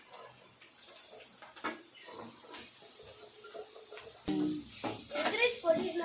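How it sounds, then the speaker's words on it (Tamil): Cabbage, carrot and onion sautéing together in a pan with egg, giving a soft steady sizzle with stirring and scraping, louder bursts toward the end. "முட்டைக்கோசு கேரட்டு வெங்காயம் மூணையும் போட்டு நல்லா இப்போ வணக்கிட்டு இருக்கிறோம்"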